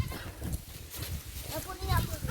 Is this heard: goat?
yes